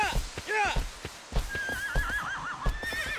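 Agro, the horse in Shadow of the Colossus, whinnies several times between rhythmic clip-clopping hoofbeats, with a drawn-out warbling neigh in the middle. A voice talks over it throughout.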